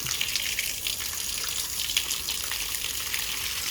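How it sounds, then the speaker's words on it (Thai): Water gushes steadily into a newly cleaned three-by-three-metre cement catfish pond, a continuous broadband rush with no pauses and no voices. "ทำความสะอาดเสร็จแล้วก็จะปล่อยน้ำแช่ไว้"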